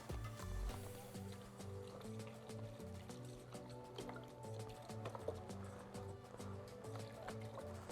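Beef broth poured into a 1970 crockpot holding potatoes for a pot roast stew, a steady liquid stream with dripping and splashing that stays quiet and continuous throughout.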